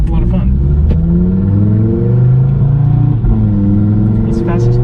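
A boosted 2022 Audi TT RS engine drones loudly and climbs in pitch as the car accelerates, heard from inside with rising harmonic tones that dip briefly at a gear change.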